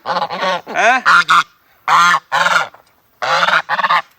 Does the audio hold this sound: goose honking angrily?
yes